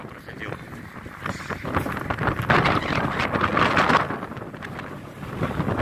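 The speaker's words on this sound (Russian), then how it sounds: "А ветер какой-то вот." Wind gusts at the Kuyalnik estuary in Odesa, Ukraine, buffet the microphone in a rough, roaring rush that swells and fades, with a voice speaking underneath.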